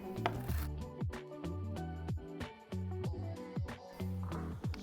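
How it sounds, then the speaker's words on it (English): A knife strikes a cutting board again and again as walnuts are roughly chopped, about a dozen sharp, close knocks in an uneven rhythm. "I have a cup of walnuts that I'm just going to very roughly chop"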